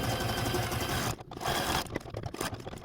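A sewing machine runs a zigzag stitch across a quilt block, a dense continuous mechanical whir that pauses briefly twice before resuming, close and steady.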